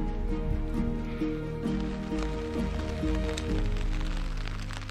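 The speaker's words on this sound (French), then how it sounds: "Voilà, il pleut." Rain falling on a tent at night during a mountain bivouac near the Vallée des Merveilles, a steady close patter on the fabric with some rustling and a faint voice-like tone in the background.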